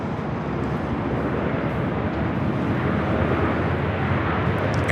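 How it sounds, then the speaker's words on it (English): An Air New Zealand airliner arriving at Los Angeles LAX on the south side makes a steady, moderately loud jet rumble that holds evenly throughout, with no speech. "Air New Zealand just arriving on the south side"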